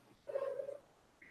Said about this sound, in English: you may hear my cat going crazy here